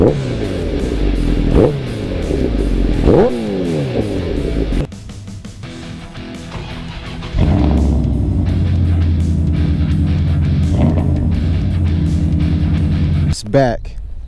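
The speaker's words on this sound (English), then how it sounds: "Give you guys a couple revs here." A Honda CBR sport motorcycle engine revs hard several times in quick bursts, rising and falling sharply, then settles into a loud, steady idle, close by.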